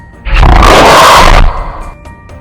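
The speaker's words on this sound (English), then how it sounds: "listening to nothing but my heart and the roars of the figure coming closer and closer." A tall figure growls and roars while coming closer: one loud, rough roar lasting just over a second, rising sharply and cutting off, followed by fainter rumbling and quiet.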